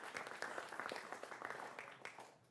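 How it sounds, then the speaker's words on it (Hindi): Studio audience on a Hindi TV news debate show applauds to welcome panel guests, a steady patter of many hands clapping at moderate level that tapers off toward the end. "जोरदार तालियों से इनका भी अभिनंदन करिए"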